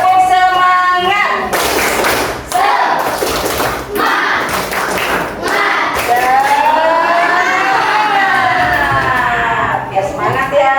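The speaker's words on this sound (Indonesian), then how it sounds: "1, 2, 3, tepuk semangat." An elementary school class doing the rhythmic 'tepuk semangat' clap, heard as loud bursts of group clapping in a patterned rhythm mixed with children's chanting voices in a classroom.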